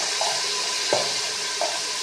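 Spices sizzle in hot oil for a potato and eggplant curry, a steady dense hiss with a few brief clinks of a spoon stirring the pan, close and continuous.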